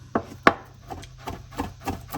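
A knife finely chops parsley on a wooden board, giving close, dull thuds in an uneven series of about eight, two sharper strikes at the start, then softer rhythmic cuts with no talking.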